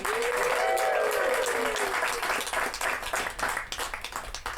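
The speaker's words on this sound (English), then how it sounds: "Everyone give a round of applause for John." A small improv comedy audience claps for a performer after a scene ends, a broadband wash of applause with a few cheering or whooping voices early, thinning into scattered claps toward the end.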